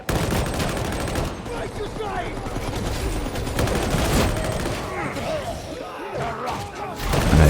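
Sustained suppressing gunfire in the game Darktide, dense rapid shots and thuds filling the whole stretch at close range, with someone talking over the shooting.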